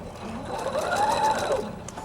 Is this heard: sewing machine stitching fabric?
yes